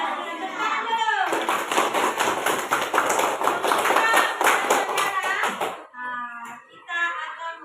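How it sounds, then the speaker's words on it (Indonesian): Schoolchildren in a classroom clap their hands in a quick, even rhythm of sharp, close claps for several seconds, framed by an adult speaking before and children's voices after. "Tepuk tangan."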